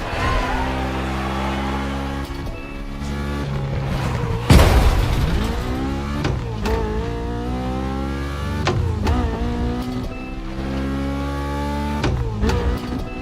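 A BMW Z4 M40i roadster in The Crew Motorfest racing game revs and shifts, its engine pitch rising and falling repeatedly, with a sharp thump partway through and no talking over it.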